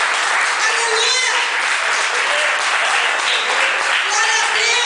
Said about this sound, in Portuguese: Aplaude pelo direito.